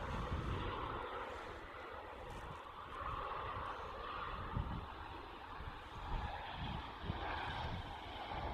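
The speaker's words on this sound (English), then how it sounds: "Nice Ryanair reverse thrusto" A Ryanair airliner on landing using reverse thrust at Manchester Airport, a broad distant roaring rush that swells and holds, fairly faint with wind.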